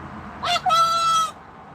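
Max, a very social pet bird, lets out a single loud call lasting under a second: a short squawk, then a sustained whistled, crowing note. It stands alone over a faint background hum.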